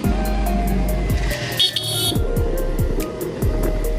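A Kawasaki 300 motorcycle engine runs loudly with a steady low drone, the revs rising and falling in quick repeated surges while the bike moves along a road.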